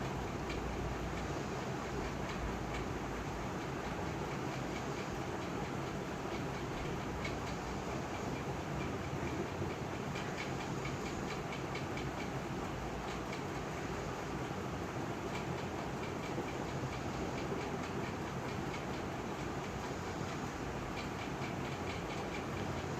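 An egg frying in oil in a pan, being cooked for a children's tiffin egg roll, gives a steady, soft, even sizzle throughout, with no talking.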